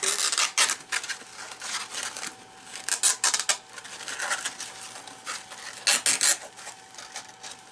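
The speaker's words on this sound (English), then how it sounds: "you can take another piece of sandpaper" Sandpaper rubbed by hand over the joint of a wooden goblet being turned: repeated rasping strokes in uneven bursts, close and fairly clear, with no talking.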